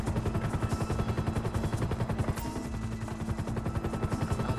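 Rapid, continuous gunfire from the video game GTA V on Xbox One, dense bursts of automatic shots rattling steadily throughout at a loud level with no talking.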